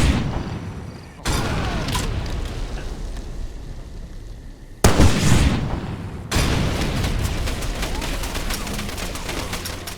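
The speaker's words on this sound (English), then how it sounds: "I went full Michael Bay and used a rocket launcher to turn an enemy outpost into a fireball buffet." Rocket launcher explosions tearing through an enemy outpost in Far Cry 2, several heavy booms with rumbling crackle and gunfire-like bursts, loud and close, with abrupt cuts between blasts.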